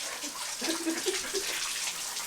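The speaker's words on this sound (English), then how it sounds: "You want me to get the tub ready for you? Get your bath water ready?" Bath water pours steadily into a tub, a continuous hissing rush heard close, with a faint voice briefly murmuring beneath it.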